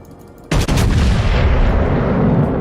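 Warship main battery fires in World of Warships, one sudden loud blast that leaves a long heavy rumble ringing out. No voices.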